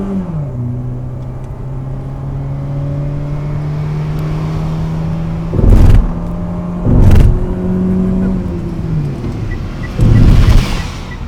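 Mitsubishi Xpander engine pulling hard on a test drive, a steady droning hum rising in pitch as it accelerates, with a few louder bursts of road or wind noise, no talking.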